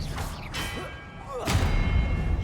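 Expelliarmus spell effect in Hogwarts Legacy, heard as a couple of thudding impacts with whooshing, swept magical tones and a heavier burst near the end, loud and close.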